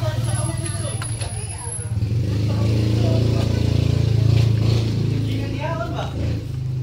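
A 2019 Nissan Terra VE with a 2.5 engine and automatic transmission runs at idle, a steady low diesel-like rumble that swells slightly midway, with people talking nearby throughout.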